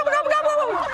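Heritage breed turkeys on an 800-acre Virginia farm gobble in a single loud, close, rapid warbling call, clear and unobstructed.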